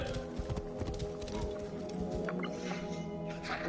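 Horse hooves clip-clopping in the video game Assassin's Creed Origins set in ancient Egypt, a steady rhythmic trot of close hoofbeats over ambient game sound with faint snorts.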